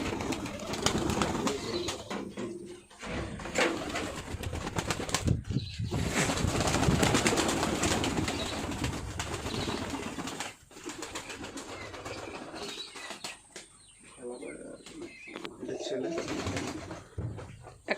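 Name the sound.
pigeons cooing and flapping in a loft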